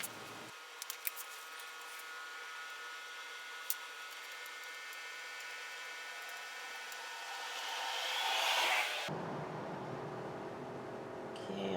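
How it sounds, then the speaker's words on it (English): A steady hiss of tack welding on a motorcycle motor mount reinforcement for a WR250E runs for about eight seconds with a few sharp crackles, then cuts off abruptly into quieter room noise. "I'm gonna tack it and then weld it."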